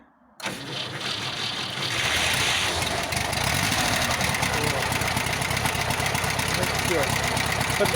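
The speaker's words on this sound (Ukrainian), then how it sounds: "Зараз зараз попробуємо завести, послухайте, як він робить." A Zaporozhets car engine cranks and catches, then settles into a loud, steady rumbling idle close by, with rough mechanical noise throughout; it does not hold throttle.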